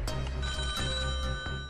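In a TV quiz show studio, a telephone rings with a bright electronic tone repeating in quick pulses, loud and close over a faint room hum, with no one speaking.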